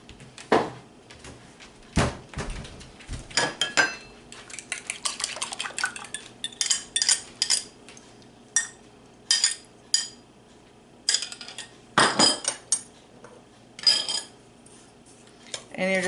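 Flour and salt are mixed in a bowl with a utensil, making repeated close clinks and scrapes in irregular bursts, with brief pauses between strokes.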